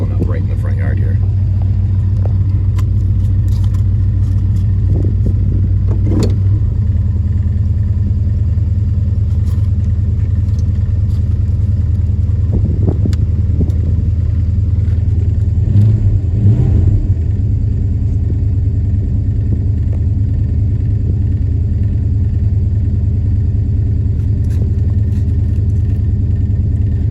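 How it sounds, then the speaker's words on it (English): A 1972 Dodge Dart rolls into a front yard, its engine giving a steady, close, low rumble throughout, with a few brief bumps and revs under people talking. "Just pulling up right in the front yard here."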